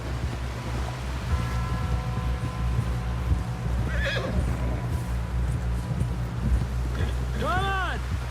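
A horse neighs in the video game Red Dead Redemption 2, a rising whinny near the end over steady wind and water ambience, with hoof clip-clops and voices talking throughout.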